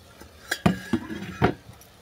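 A lid taken off a covered cooking dish of bori in a home kitchen: a few light metallic clinks and taps, close and fairly quiet, spaced over about a second with a faint ringing between.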